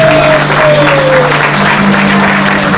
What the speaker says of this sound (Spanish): Mario Godoy, primera voz, fuerte los aplausos, aquí está Mario Godoy.